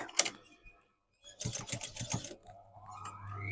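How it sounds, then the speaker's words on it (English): A sewing machine stitches underneath fabric, a quick burst of rapid mechanical clatter after a brief pause, close and fairly quiet, with faint handling noises around it. "I'm just stitching underneath that fabric"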